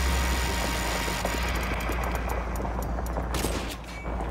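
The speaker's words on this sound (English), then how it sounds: "We're taking sniper fire from multiple directions." Sniper gunfire in Call of Duty Modern Warfare 2 Remastered, a few sharp distant cracks over a steady low engine-like rumble of a military convoy scene, fairly loud throughout with no talk.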